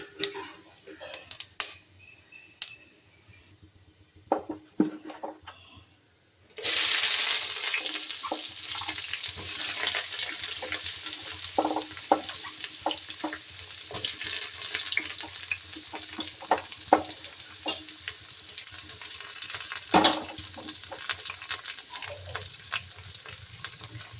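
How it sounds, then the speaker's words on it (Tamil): Scattered clicks and taps, then a sudden loud sizzle as onions, curry leaves, green chillies and mint hit hot oil for chicken curry, frying steadily with stirring clatter. "வெங்காயம், கருவேப்பிலை, பச்சை மிளகா, கொஞ்சோண்டு புதினா இப்போ போட்டு வதக்குறோங்க."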